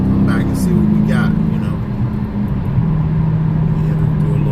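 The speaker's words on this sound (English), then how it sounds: "Listen to that engine, baby. That thing sounds good." A car engine idles and rumbles with a low, steady drone that shifts pitch slightly, heard from inside the car under a voice talking.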